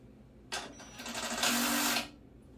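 A power tool on its lowest setting drives bolts into a Jeep 258 4.2L long block engine in a few short, whirring bursts that rise to one longer run before stopping.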